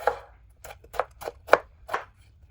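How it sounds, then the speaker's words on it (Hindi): Onion being finely chopped with a knife on a board: about seven crisp, close, evenly spaced cuts in quick rhythm, with nothing else underneath. "प्याज के भी इसी तरह हम बारीक बारीक पीस कर लेंगे।"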